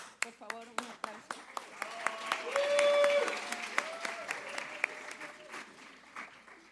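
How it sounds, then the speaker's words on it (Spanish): An audience at a translation and interpretation forum applauds a conference speaker, individual claps swelling into a full round of applause and then thinning out, with a voice speaking over it. "Por favor, un aplauso."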